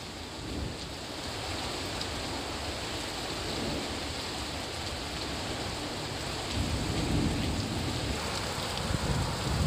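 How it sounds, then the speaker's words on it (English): Heavy rain pouring down in a dense, continuous wash of hiss and patter that swells slightly louder toward the end, with a low rumble underneath and no voices. "Rain coming down really hard."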